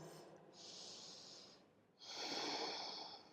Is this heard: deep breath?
yes